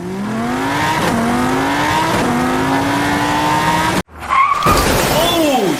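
Toy cars race down a track lane against each other, a steady loud whirring hum with rising whine over several seconds, then a brief dropout before a clattering burst.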